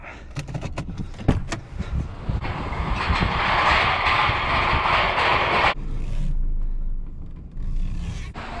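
The door of a 1997 Toyota Camry LE unlatches and swings open with a mechanical clunk, followed by a steady rushing hum of the vehicle and a few small clicks and rattles.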